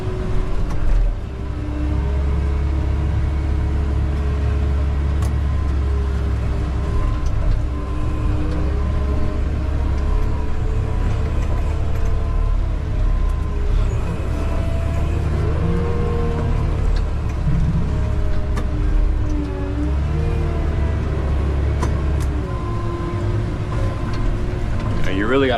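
Caterpillar 908M compact wheel loader running steadily at a worksite, a continuous low diesel drone with shifting tones as the boom lifts, close and loud throughout; talk can be heard over the engine.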